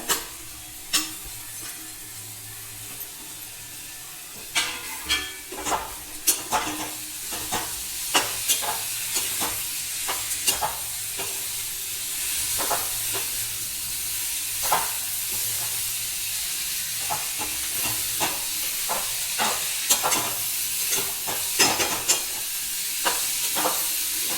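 Sprouted fenugreek seeds frying in a pan under a constant steady sizzle, with a spoon stirring and scraping in frequent irregular clicks throughout, close and fairly loud.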